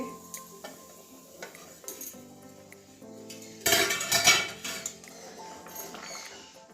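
A pot lid lifted off boiling green bananas, with clinks of metal cookware and a scrape of the lid, plus a brief louder burst of bubbling and steam midway, close and without talking.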